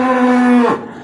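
A single close, loud moo from a cow or steer out in a cattle pen, a steady drawn-out call that ends abruptly.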